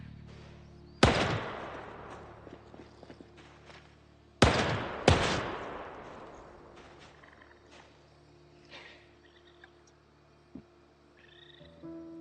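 Gunshots in the Project Zomboid video game: three loud, sharp reports, one alone and then a close pair a few seconds later, each followed by a long fading echo over quiet ambience.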